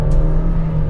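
A Maruti Suzuki Vitara Brezza diesel engine revs steadily, a close, loud, droning hum with a strong low tone holding for about a second.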